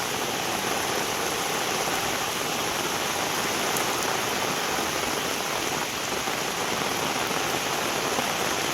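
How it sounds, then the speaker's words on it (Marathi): Heavy monsoon rain pours steadily in Kudal, a dense, loud, unbroken hiss of falling water without pause, with no voices. "पाऊस पण खूप जोराने पडतोय"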